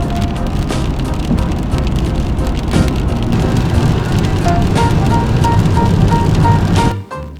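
A car drives through rain on the way to Þingvellir National Park in Iceland: dense drumming of raindrops on the vehicle over a low road rumble, with faint intermittent beeping and an abrupt drop at the end.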